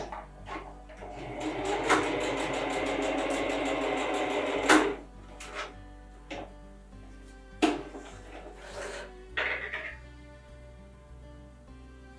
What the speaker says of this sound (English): I will now sew one straight line on top of my elastic